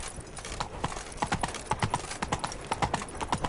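Hooves of Roach, the horse in the video game The Witcher 3, clip-clopping in a quick, even rhythm of sharp hoof strikes, fairly close and moderately quiet, with no talk over them.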